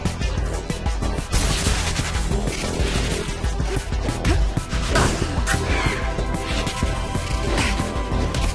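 Gunfire in the video game Remember Me, dense and loud, with rapid crashing shots and impacts running continuously through a busy game mix.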